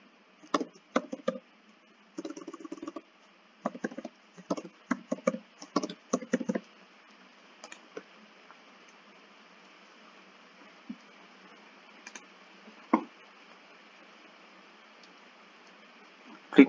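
Scattered bursts of light keyboard typing and mouse clicks on a computer, fairly faint and close, with quiet pauses between the bursts and no talk.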